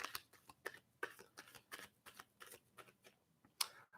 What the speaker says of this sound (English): I'm shuffling cards and seeing what's just coming out.